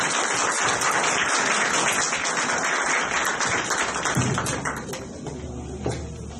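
A conference audience applauds loudly and continuously for several seconds, then the clapping thins and fades.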